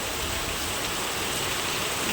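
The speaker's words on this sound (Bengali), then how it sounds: "প্রচুর বৃষ্টি হচ্ছে একদম প্রচুর পরিমাণে বৃষ্টি হচ্ছে একদম মুসুলধারিতে" Dense, heavy monsoon downpour pouring steadily, a constant loud hiss of drops drumming on surfaces with no pauses.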